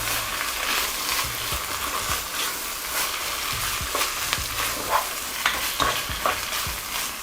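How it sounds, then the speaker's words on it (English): Ground beef frying hard in a pan, a steady close sizzle with scattered crackles and the scrape of a utensil breaking up the meat, no voices. "Fry this up properly for additional 3 to 4 minutes."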